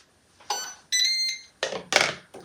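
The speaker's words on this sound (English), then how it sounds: "there it was, the Ninja beep" A Ninja waffle maker beeps to signal it is preheated: a short series of electronic tones in quick succession, clear and close in a quiet kitchen.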